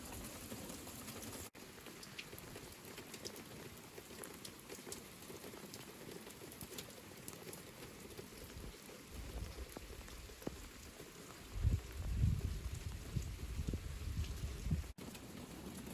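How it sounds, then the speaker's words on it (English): Rain falls outdoors in a steady, soft, faint patter that carries throughout. Toward the end, a few louder low rumbling gusts rise over it. "As you can see, it is still raining out here and it's actually pretty wet."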